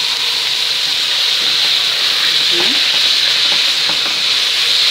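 Seafood with peppers and carrots sautés in a pan, making a continuous, even hissing sizzle with faint stirring scrapes now and then. There are no voices.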